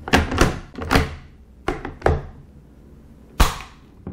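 The turn bolt of a Yugoslav Steyr M95M rifle in 8mm Mauser is worked, giving a series of sharp, close metallic clacks and thunks in uneven groups, with no talking.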